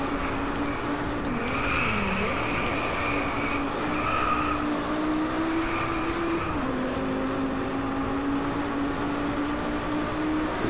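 In the DRIVECLUB racing game at Lake Shoji, a car brakes hard and its tires skid with a sustained screeching whine over the engine drone, continuous and fairly loud.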